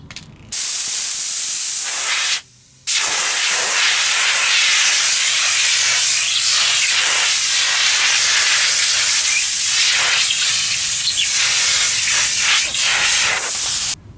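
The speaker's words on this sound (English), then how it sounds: "So to blow this out, you're just going to blow the air in the opposite direction. So if you have an air compressor" An air compressor nozzle blasts air through the filter of a Winix air purifier, a loud, steady close-up hiss that cuts out briefly once before continuing uninterrupted to the end.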